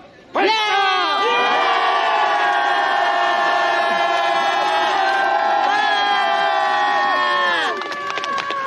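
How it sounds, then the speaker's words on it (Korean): A crowd at a political rally in a Mokdong market in Yangcheon-gu, Seoul, lets out one loud, sustained collective shout and cheer for about seven seconds, then it breaks off abruptly into scattered voices. "여러분, 3초간 전방을 향해 함성 발사!"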